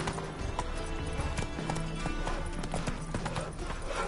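In The Witcher 3, Geralt's horse Roach clip-clops along at a walk. The hoofbeats are muffled and come over a dense layer of game ambience and music.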